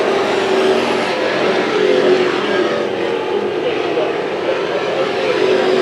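Race cars roar around Irwindale Speedway during a celebrity race, a continuous dense engine drone under steady commentary.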